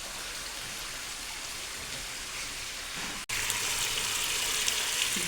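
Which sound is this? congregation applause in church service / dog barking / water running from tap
water running from tap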